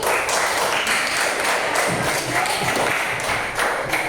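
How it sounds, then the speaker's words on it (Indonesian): Classmates clapping for a student presentation group in an Indonesian-language lesson, a steady dense burst of applause from a room full of people, lasting a few seconds without talk. "cukup beri tepuk tangan untuk kelompok ini"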